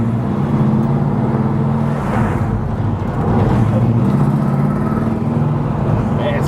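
A Chevrolet Camaro split-bumper tribute with a 350 V8, four-speed manual and 3.73 gears cruises on the highway, its engine droning steadily and loudly alongside road noise.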